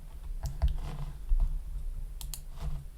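A few sharp, close computer mouse clicks, light and isolated, over a faint room hum with no voices.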